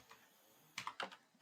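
Code being typed on a computer keyboard during a C# programming session, with a faint key tap followed by a quick, close burst of several clicking keystrokes in a quiet room.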